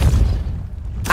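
The Depulso spell in the Hogwarts Legacy video game goes off as one short, deep booming thud, loud and close, followed by a brief burst of higher noise.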